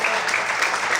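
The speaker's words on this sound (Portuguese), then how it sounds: "você pode aplaudir e glorificar o nome de Deus" A church congregation applauds in praise, producing steady, dense clapping that fills the short moment at an even, loud level.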